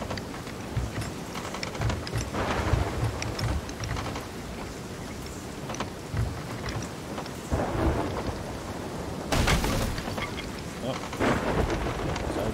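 A thunderstorm at sea in the pirate game Sea of Thieves: steady heavy rain pours while repeated rumbling thunder and sharp cracks rise and fall throughout.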